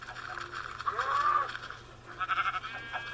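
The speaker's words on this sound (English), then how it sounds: "Is that cows and pigs and sheep?" Sheep bleat in short, wavering calls over a farm-animal soundscape with several separate cries, moderately faint and with no talking.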